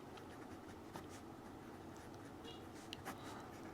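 Pen or marker writing out a maths solution, a steady faint scratchy texture with a few light taps, no talking.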